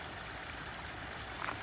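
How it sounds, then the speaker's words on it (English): Small rainwater stream trickling through the woods like a creek after a heavy morning rain, a soft steady flow at low level with a brief brighter splash near the end. "There's a little mini waterfall over there almost"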